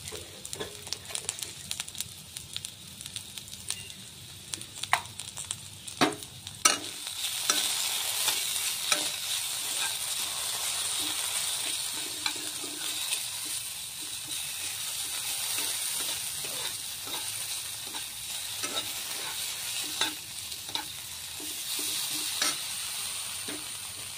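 Jhaal suji, a spicy semolina dish with potato, salt and a little sugar, being stirred in a frying pan: a steady sizzle runs throughout, broken by repeated scraping and tapping strokes of the spoon, fairly close.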